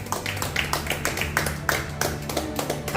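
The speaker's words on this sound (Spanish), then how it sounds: "Denle un fuerte aplauso al Señor." A church congregation at an evangelistic service claps in a fast, steady rhythm, with loud, dense hand claps filling the room continuously.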